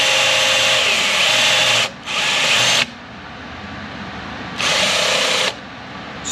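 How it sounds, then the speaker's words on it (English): A power drill bores holes into the metal side of an overland rig while trim is finished and a Weboost is mounted, in three loud, steady whirring bursts separated by short pauses. "So we'll drill our holes."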